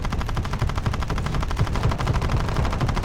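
Rapid, sustained machine-gun fire in the mobile combat game War Thunder Mobile, a loud continuous burst of closely spaced shots running steadily for about three seconds with no talk over it.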